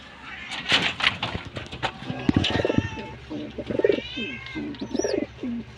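Pigeons cooing in a two-level backyard coop that also holds their grown young, low soft coos repeating beneath a voice talking nearby.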